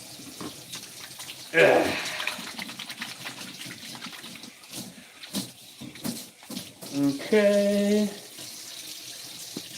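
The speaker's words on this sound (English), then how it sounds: "Let me wash my hand because disgusting." Tap water runs into a kitchen sink as someone washes their hands after handling chicken, a moderate splashing flow with a brief stronger gush, while a person mutters briefly.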